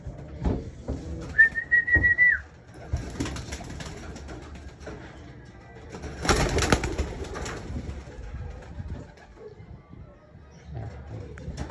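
A bird call rises briefly near the start amid rustling and handling noise, with a louder burst of clatter partway through.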